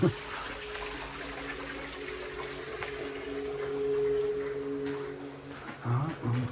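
Water sprays steadily from a garden shower feature at RHS Bridgewater gardens in Worsley, a continuous broadband hiss with a low background hum running throughout.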